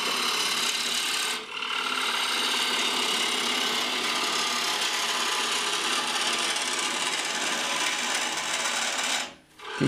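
A hand-held lathe tool resting on the tool rest cuts into a spinning wooden bowl, giving a steady, loud, continuous scraping hiss that runs almost unbroken, with brief pauses near the start and end.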